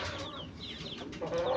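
An Aseel hen clucks and murmurs nearby, soft short calls over steady background noise, with a brief louder note near the end.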